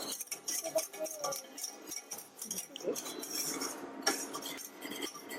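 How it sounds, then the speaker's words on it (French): A mixture is whisked in a bowl for ham croissants, the wire whisk clattering and scraping rapidly against the sides in uneven close bursts, with faint voices in the background. "Et Maïna, vas-y, fouette. Mélange. Bien dans les bords aussi."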